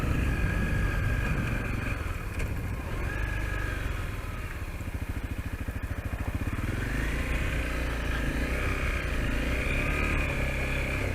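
A Honda CRF250L motorcycle is ridden off-road at an off-highway vehicle park, its engine steady and close with shifting revs and a rattly, pulsing stretch midway, under wind noise.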